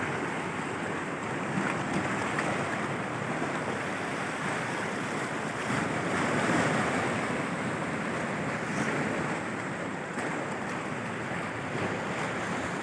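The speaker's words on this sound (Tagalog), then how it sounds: "Lalakas ng alon tapos wala nang mga isla." Strong Pacific Ocean waves wash against an open shore, forming a continuous, dense roar of surf with gentle swells in loudness and some wind buffeting the microphone.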